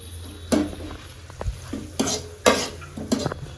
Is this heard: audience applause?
no